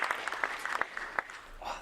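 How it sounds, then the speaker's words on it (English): Scattered clapping from a conference audience: a handful of separate, sharp claps spaced unevenly, fairly close, thinning out toward the end rather than building into full applause. "So if you can give them a round of applause"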